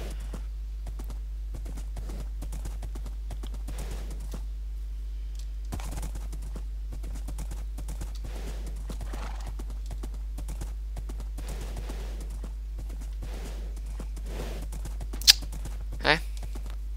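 Hooves of a horse ridden through Rohan in a video game, a steady, even clip-clop at close range with no talk, and two brief sharp sounds near the end.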